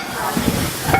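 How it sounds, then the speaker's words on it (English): Meat sizzles in a hot pan over high heat in a Korean recipe, a brief crackling fry with a few clinks of stirring close by. "You want them to sizzle a little bit."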